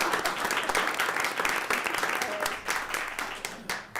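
Applause from a council meeting audience for the chief of police, dense sustained clapping from many hands filling the room steadily and fading slightly toward the end.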